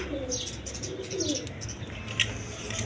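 Lotan pigeons at a farm give soft, repeated cooing calls with a few chirps and wing flutters, steady and close against a busy background.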